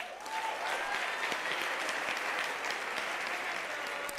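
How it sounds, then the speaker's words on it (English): University graduation ceremony crowd giving master's graduates a round of applause in a large hall, steady dense clapping from many hands, fairly distant and even, with a brief voice at the start. "a round of applause."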